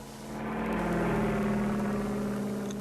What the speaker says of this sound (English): Yes, it's an airplane.